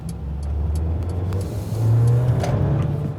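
A 2019 Mercedes B200 with its petrol engine drives along, heard from inside the cabin as a smooth, steady engine drone with road rumble that swells slightly partway through.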